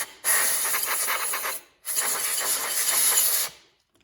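Two strong bursts of air blown through a straw into a Buddy portable propane heater to clear dust, a loud close hiss lasting over a second each, separated by a brief gap.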